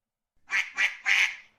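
Three loud, nasal duck quacks in quick succession, the last one drawn out, with silence before them.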